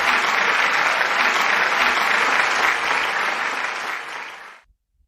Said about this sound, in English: With a big, big round of applause, please welcome Dada Gunamuktanand Ji.